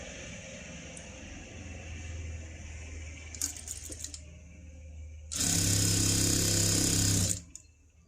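Sewing machine running a double line of stitching on thin blouse fabric, a loud steady burst of stitching in the second half after quieter handling noises and a faint background hum.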